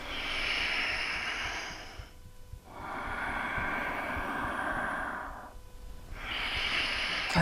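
Slow, audible breaths during a beginners' yoga balance exercise: three long, airy exhales, each about two seconds, separated by short quiet pauses, close to the microphone and with no speech.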